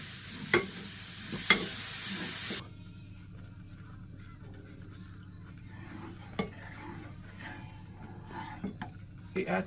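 Milk is gradually stirred into melted butter, flour and salt to make a cheese sauce for taco mac and cheese, with a soft sizzle and a few spoon clinks against the pan early, then quiet stirring.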